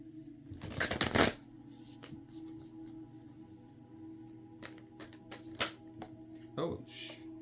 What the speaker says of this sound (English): Oh, lots of cards throwing themselves out here.